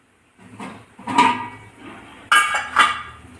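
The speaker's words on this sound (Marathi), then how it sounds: "चांगलं फेटून घ्यायचं" A thick idli-dosa batter is beaten clockwise in a bowl by hand, giving close, uneven bursts of wet slapping and a spoon knocking the bowl, with short pauses between strokes.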